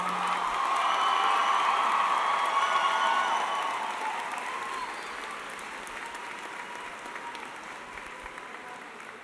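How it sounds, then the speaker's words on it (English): Sustained applause from a large audience at the Loy Norrix High School 58th commencement ceremony for the class of 2018, dense clapping with a few cheers that swells early and slowly fades. "Let's give a big round of applause to our class of 2018."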